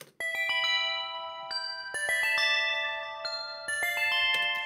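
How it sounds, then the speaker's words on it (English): Bright, bell-like synth tones from a preset called Bright Fuzzy Bells ring out in a few struck chords, each note sustaining and layering with shimmering overtones. "This sound is called Bright Fuzzy Bells."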